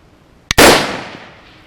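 A single sharp rifle shot from a budget LR-308 AR-10 fired at a target outdoors, a loud close crack followed by a decaying echo tail.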